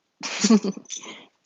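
A single sharp sneeze bursts out nearby, followed by a brief softer breathy tail, then silence.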